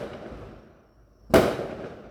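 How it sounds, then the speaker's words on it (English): Fireworks go off outside: after a faint rumbling lull, one sharp loud bang bursts and then rolls away in a fading echo, with no talk. "I believe it's fireworks."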